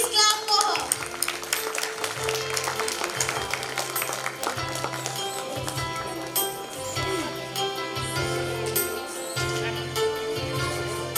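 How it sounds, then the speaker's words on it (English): An audience at a school annual function claps for a prize winner of a children's rhyme competition, with loud, continuous applause and chatter from children, and a voice speaking over the crowd. "Please clap for her."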